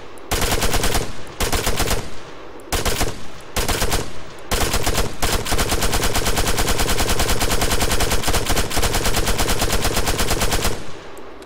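Automatic rifle fire from a prone firing position in the Arma 3 video game, loud and close, with several short bursts followed by one long sustained stream of rapid shots and a brief tail of echo.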